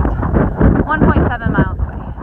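Steady wind buffets the microphone on a mountain summit, a continuous low rumbling roar with gusty swells under a speaking voice.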